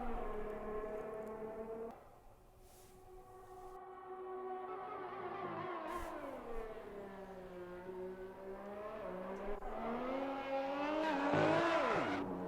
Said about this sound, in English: There's our first spin. Luckily didn't hit the wall.